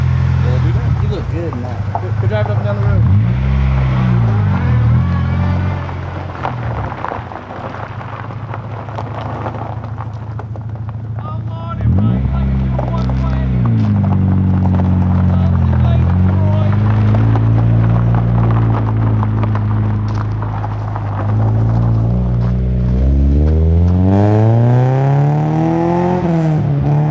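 A car with a newly fitted custom exhaust drives down a road, its engine rumbling loudly and rising and falling with repeated revs and gear changes, with wind noise and people talking over it.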